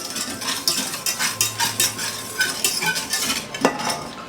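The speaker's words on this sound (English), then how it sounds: "I'm going to mix that together. Just combine the two so that the cornstarch gets broken up into the" Sugar and cornstarch stirred together in a bowl, rhythmic scraping and clinking of a utensil against the bowl repeated several times, close and clear.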